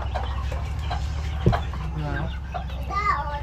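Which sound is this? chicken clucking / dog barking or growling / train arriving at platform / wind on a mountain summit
chicken clucking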